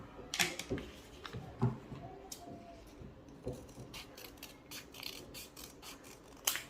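Several short, sharp snips of scissors cutting folded colored paper circles, irregularly spaced, close and fairly quiet against a soft background rustle.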